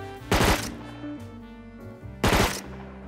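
Two loud, close bursts of Thompson submachine gun fire in a video game's PvP combat, each a tight rapid cluster of shots roughly two seconds apart with a low background hum between.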